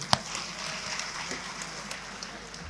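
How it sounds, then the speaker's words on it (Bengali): An audience applauds at a political speech in Bangladesh, a steady crackling patter of many hands clapping at moderate loudness, opening with one sharp louder clap. "সবাই জোরে একটি করতালি দিবেন।"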